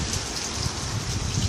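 Steady rain pours down during a thunderstorm, a continuous close hiss of drops on surfaces with no voices and no distinct thunder clap.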